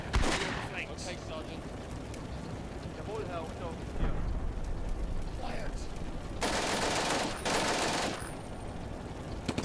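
Mortar fire and explosions on a Normandy battlefield in Combat Mission: Beyond Overlord, distant thuds and rumbling blasts under steady battle noise, with two longer hissing bursts near the end.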